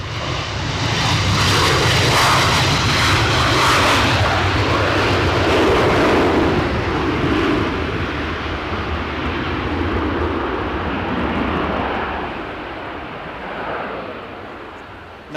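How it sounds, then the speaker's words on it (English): An airliner lands at Edinburgh Airport in gusty 40 mph winds and applies reverse thrust. Its loud, close, broadband jet roar holds steady for several seconds and then slowly fades. "some nice reverse thruster kick-up noise reaching my ears there"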